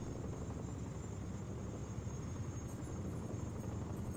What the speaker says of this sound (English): I hear helicopters.